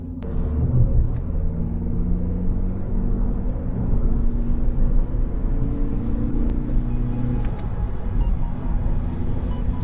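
A Skoda Fabia II accelerates from 60 to 100 km/h, heard from inside the cabin as a steady low engine rumble with rising tones over road noise, and no talking.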